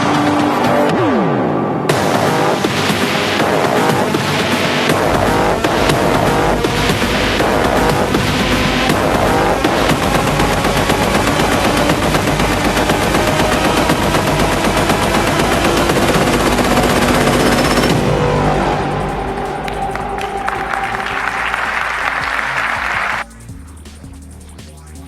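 A Ducati Streetfighter V4 naked bike with 208 HP roars continuously at high revs, loud and close with harsh crackling exhaust, before easing down to a quieter idle near the end.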